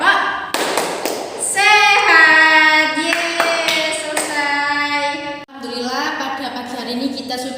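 A class of schoolchildren performs a rhythmic clapping chant together, loud unison claps and thumps mixed with voices singing and shouting the yell, close and lively.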